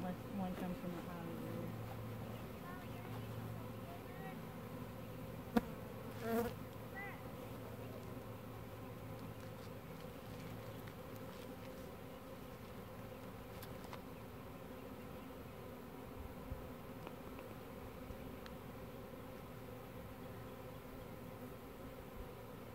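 A swarm of Russian honey bees caught on an auger, buzzing in a steady, droning hum that fills the air at low volume; faint, brief sounds rise briefly above it.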